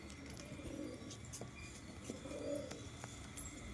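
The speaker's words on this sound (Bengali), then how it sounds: "দারুণ কবুতর আছে থুপি থুপি পায়ে মোজা আছে" Pigeons of a fancy breed with feathered, socked feet cooing softly in low, rolling phrases, fairly close amid faint background noise and occasional bird chirps.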